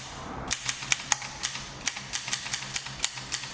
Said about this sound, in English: It's one of the grasshopper type machines which sought to solve the problem of visible typewriting by typing from both the front and the back of the page